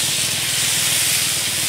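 Seasoned stir-fry oil sizzles on a hot Blackstone griddle, a steady close hiss with a faint low rhythmic hum underneath and no talking.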